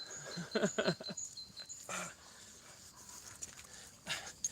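A dog on a walk outdoors pants and sniffs close by in short bursts of breathy huffs, with faint background noise and no talking.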